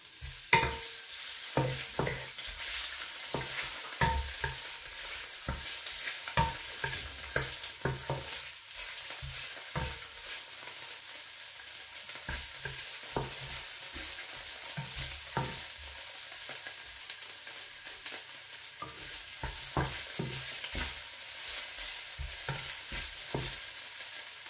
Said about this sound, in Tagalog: Pipratuhin muna natin yung loya